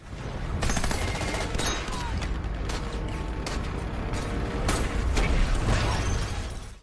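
Thompson submachine gun fire in a World War II jungle warfare battle scene, with loud continuous overlapping bursts and sharp shots against a dense, mechanical background of battle noise.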